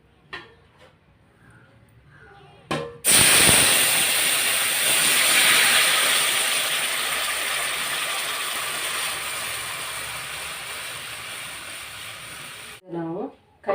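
Ragi halwa cooking in a pan on the stove, a loud continuous hissing sizzle that starts abruptly and stays steady for about ten seconds before cutting off, with talk in the quieter stretches before and after.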